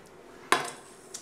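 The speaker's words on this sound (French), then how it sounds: "Alors je mets bien la casserole." A metal saucepan for making caramel is set down on a stovetop with a single sharp clatter, close and fairly quiet, followed by a faint light knock.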